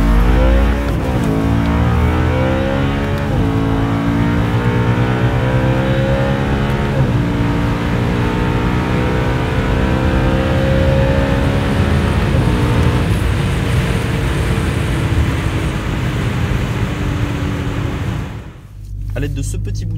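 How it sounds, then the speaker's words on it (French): A BMW M3 E92 engine revs up hard in first gear, a loud close roar climbing in pitch over several pulls with brief dips between them, then cutting off sharply near the end. "Je vais accélérer en première un peu pour la vidéo."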